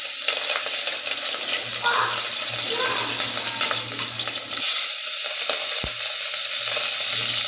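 Bay leaf, cinnamon, cloves, cardamom and green chillies fry in hot oil for a coconut pilaf, giving a loud, steady, close sizzle with occasional stirring scrapes and no talking.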